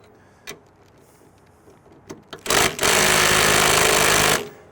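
An impact gun loosening the block on a door pen, with a few faint taps first, then a loud sustained whirring hammer run lasting about two seconds before it cuts off.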